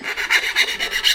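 Short rasping strokes of a file or grinder cleaning up freshly chopped exhaust pipe for blast pipes, a few close rhythmic scrapes with a bright gritty edge and no voices.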